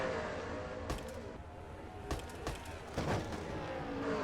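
Racing trucks in a Pizza Hut Truck Series race at Pensacola, one a Toyota, roar off the fourth corner, their engines droning with sharp crackling pops and bursts as they accelerate.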